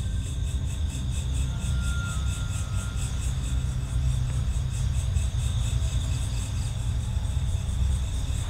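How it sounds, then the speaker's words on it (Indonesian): Crickets chirping in a steady, pulsing chorus at night in Papua, continuous and moderately loud over a low rumbling background. "suara babi, suara jangkrik di tempat ini sangat luar biasa"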